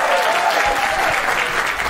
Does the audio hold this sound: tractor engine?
no